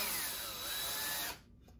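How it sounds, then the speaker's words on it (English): A power drill drives a screw into a wooden guitar wall mount plate, a close steady high whine that cuts off abruptly after about a second and a half, leaving near silence. "we're just going to screw that on. Probably with our drill."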